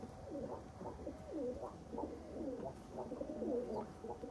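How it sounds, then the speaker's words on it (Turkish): Several pigeons coo softly and repeatedly, their low throaty calls overlapping in a close, gentle murmur. "Kuşlar"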